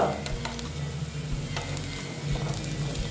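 Dal pakodas fry in oil with a steady, close bubbling sizzle, flecked with small pops and the occasional scrape of stirring; no talking.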